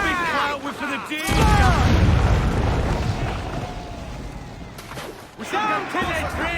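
Ship cannons fire in a naval battle in Assassin's Creed IV Black Flag, a loud sustained booming roar that swells and rumbles for several seconds, with shouted voices before and after.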